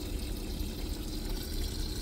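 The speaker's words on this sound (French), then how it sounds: "Voilà, je remets de l'eau dans ma cuve" Water runs steadily from a small tap into a washing tank, a continuous close splashing and pouring rush with no talk.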